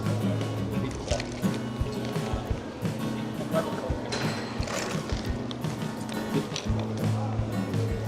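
Someone drinks water during a pie tasting in Melbourne's CBD, with soft liquid sloshes, drips and small knocks scattered through a steady, busy background.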